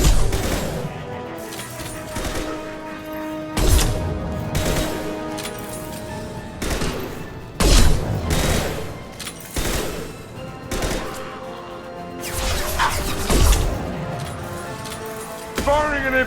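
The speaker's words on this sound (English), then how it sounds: "Firing an impact shot." Gunfire from an impact shot in the video game Mass Effect 2 comes as repeated loud, sharp blasts with ringing tails, mixed with game music and effects, while a voice talks over parts of it.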